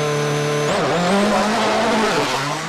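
Citroën C4 WRC rally car charging through a gravel stage at Rally de Portugal, its engine loud and close, pitch sweeping up and down through gear changes amid gravel spray and crackle.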